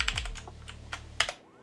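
A password being typed on a computer keyboard: a quick, uneven run of close, crisp keystrokes, with a final cluster of sharper key presses before the clicking stops.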